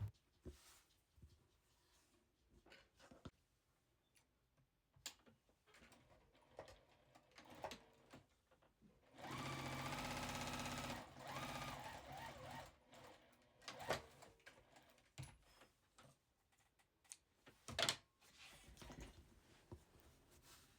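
A sewing machine runs in a single steady burst of several seconds, stitching along a drawn line through two fabric squares for a heart mug rug, with quiet handling noises and short clicks before and after.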